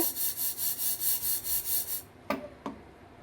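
Dry-roasted flour swishes and rattles in a kadai shaken back and forth in a steady rhythm, about eight strokes, then stops with two sharp taps.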